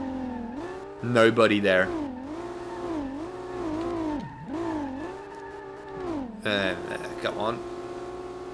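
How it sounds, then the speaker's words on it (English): A 2JZ-engined 240SX drifting on Mount Akina in the SLRR game: the engine drones and rises and falls in pitch through repeated revs, with someone talking over it and a couple of louder rasping bursts. "That sounds nothing like a 2J. That sounds like a very, very dead V6"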